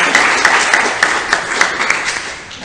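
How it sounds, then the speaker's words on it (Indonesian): Audience applause at an Islamic talk on zakat and fundraising, a steady wash of many hands clapping with a few sharper claps standing out, fairly loud and close throughout. "Sekali lagi tepuk tangan yang meriah."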